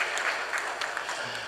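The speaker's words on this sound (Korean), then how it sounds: "우리 한번 따뜻한 박수로 우리 축하하면서 예배를 드리겠습니다" Church congregation at a Sunday service giving warm applause, a soft, steady patter of many hands heard from a distance with a reverberant room sound.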